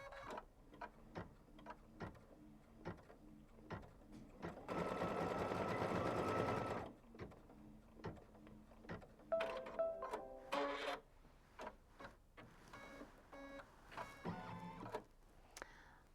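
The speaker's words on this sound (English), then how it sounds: "let's just go ahead and stitch out the first step, which is just a placement line for your flexi foam" Embroidery sewing machine stitching a placement line directly onto stabilizer, soft rhythmic needle ticking and whirring with a short motor whir midway, quiet and close.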